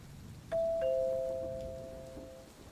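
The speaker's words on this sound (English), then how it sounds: "the doorbell rang." A doorbell chimes a two-note ding-dong, the tones ringing out clearly and slowly fading over a soft, steady background hiss.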